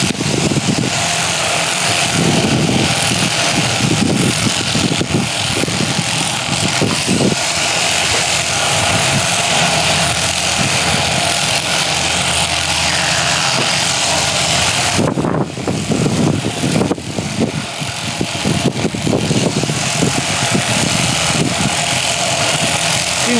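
An electric sheep shearing machine runs continuously at close range, a steady motorized hum with a brief dip and shift in tone partway through, no talk over it.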